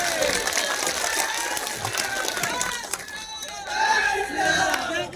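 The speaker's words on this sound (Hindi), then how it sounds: "हमारे प्रधानमंत्री नरेंद्र मोदी जी के लिए जोरदार ताली बजाएं।" A large crowd at an election rally roars and claps in a loud, continuous wash of cheering, shouts and applause that swells again near the end.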